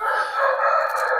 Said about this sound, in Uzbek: Yaxshi xo'roz.